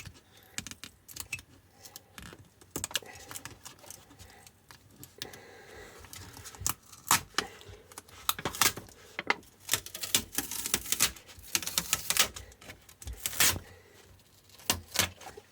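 The wrap is peeled off a Stromer 48V 15.9Ah e-bike battery pack, making close crinkling, crackling and tearing sounds in irregular bursts that grow busier toward the middle.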